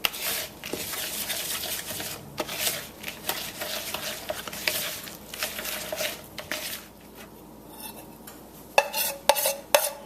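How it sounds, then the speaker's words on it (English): Cupcake batter with nuts and vanilla being mixed in a bowl, heard as continuous wet squishing and scraping strokes close up, ending in a few sharper clinks of the utensil against the bowl, with nobody talking. "And then I'm going to mix it around really good."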